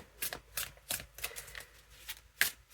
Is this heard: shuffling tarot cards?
yes